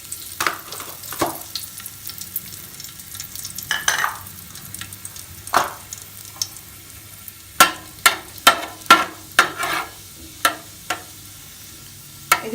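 Dried red chillies and cumin seeds fry in hot oil in a pan, a soft steady sizzle broken by sharp crackles and pops that cluster toward the end.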